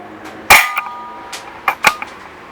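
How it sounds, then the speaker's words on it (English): Single-action shots from a Dan Wesson CO2 BB revolver: one sharp loud crack followed by a few lighter clicks and two quicker cracks later, no talk. "I'm going to shoot in single action mode because it usually generates better target accuracy"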